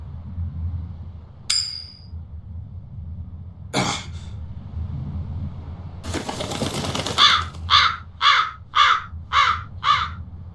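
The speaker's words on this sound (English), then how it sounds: "That crow just flew off with the coin!" A crow caws in the video game Tales of Berseria, six quick, evenly spaced caws ringing out loud and clear after a few scattered game sounds and a burst of noise.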